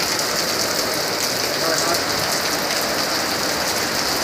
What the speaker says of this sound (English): the rain is actually coming in 2 different directions